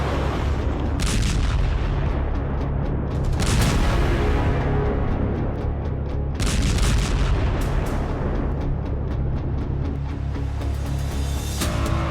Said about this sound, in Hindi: ये ऐसा वॉर जोन है जहां बारूदी प्रहार रुकने का नाम नहीं ले रहा